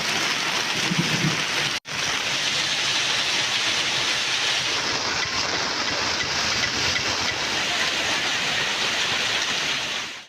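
Heavy rain pouring down in Chengalpattu, Tamil Nadu, a steady, loud, broadband hiss that holds unbroken for ten seconds apart from one brief dropout.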